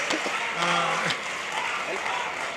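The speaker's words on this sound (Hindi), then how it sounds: "तालियां जोरदार आनी चाहिए।" An audience applauds at a live comedy and poetry show, a steady wash of clapping that holds throughout, with a voice speaking and calling out over it.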